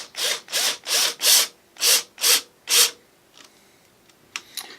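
A power driver sinks small brass screws straight into plywood without pilot holes: seven short whirring bursts in quick succession, then quieter faint clicks and taps afterward.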